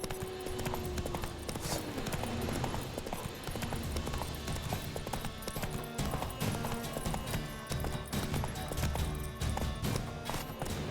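Hoofbeats of Roach, the horse in The Witcher 3, galloping in a fast steady clip-clop rhythm, loud and close, over a dense bed of game music and ambience.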